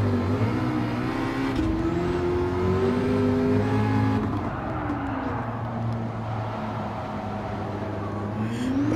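A prototype race car in a racing video game roars at high revs with nitro engaged, a loud continuous engine drone whose pitch climbs, drops at a gear change, and climbs again while the car holds speed.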